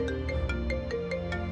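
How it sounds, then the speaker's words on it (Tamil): A mobile phone rings with a repeating electronic melody, a steady sequence of bright tones over a dense musical bed, with no talking. "அப்போது சிவாவுடைய செல்போன் ரிங் ஆனது."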